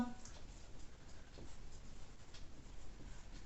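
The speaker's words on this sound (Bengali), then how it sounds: "সেইটাকে আমরা একটু লিখে নিই" Pen scratches on paper while trigonometry working is written out, a faint, continuous scratchy rustle with small strokes close by.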